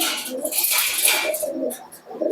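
A Giribaz pigeon cooing at close range, soft rolling coos over a breathy, rustling background, with no clear speech.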